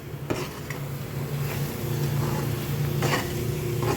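Gongura curry fries in plenty of oil on high heat, stirred in the pan with a continuous sizzle beneath a few soft scrapes and knocks of the spoon, steady and close throughout.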